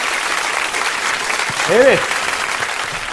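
Audience applause in a classroom-like setting, steady clapping throughout with a brief spoken word partway through.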